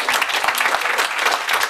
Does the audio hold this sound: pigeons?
no